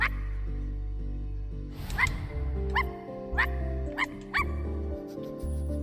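A dog in the game I Am Dead lets out a string of short, bright yips and barks, five or six spaced calls over a looping melodic music bed.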